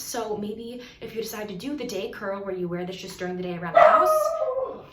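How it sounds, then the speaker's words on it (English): Dogs bark in the background of a house while someone talks steadily, with a sharper, louder bark breaking through near the end under her voice. "I'm so sorry for the dogs barking."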